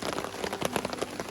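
Rain patters on a tarp over a picnic table at a campsite in Rondeau Provincial Park, a close, dense scatter of irregular drops tapping the fabric, steady and unbroken.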